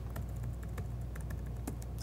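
A password is typed on a computer keyboard: a quiet, irregular patter of individual key clicks over a low steady room hum, captured at a modest distance.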